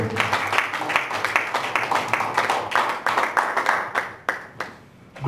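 Church congregation applauding the pastor at an Easter celebration, dense rhythmic clapping from many hands, loud and close, thinning out and stopping near the end.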